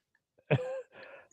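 A single person sneezes, a sharp close burst followed by a short, breathy, voiced tail, in an otherwise quiet room.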